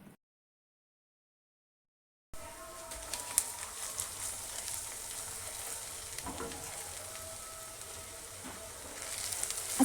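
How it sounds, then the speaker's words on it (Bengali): Chopped onions frying in mustard oil, a soft steady sizzle in a pan after a stretch of silence, faint and close with occasional stirring clicks. "ততক্ষণ এই তেলের মধ্যে পেঁয়াজটা একটু ভেজে নিতে হবে"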